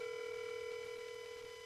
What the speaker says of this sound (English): Chairman McAnally, your call is ringing here